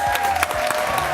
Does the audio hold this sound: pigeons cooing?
no